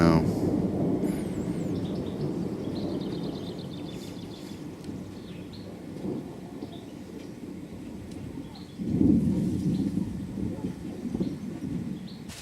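Heavy rain pours during a thunderstorm as a steady, dense roar, swelling into a louder surge near the end, with faint voices in the background.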